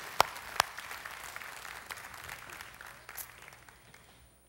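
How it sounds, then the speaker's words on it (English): An audience at a stage show gives a faint, distant round of applause, with two sharp claps standing out near the start before the soft clapping gradually tapers off. "Give them a nice warm round of applause"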